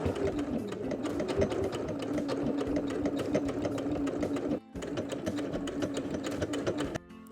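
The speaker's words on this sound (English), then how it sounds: "I'm gonna start quilting in the center and I'm gonna go around and then I'll do a decorative stitch" A sewing machine quilts a decorative stitch around the edge of an infant hoodie, running in a fast, steady, close-up whir with one brief pause midway before it stops near the end.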